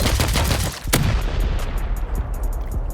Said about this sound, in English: let's try C4ing that turret